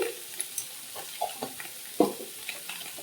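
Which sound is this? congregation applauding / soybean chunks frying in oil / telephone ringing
soybean chunks frying in oil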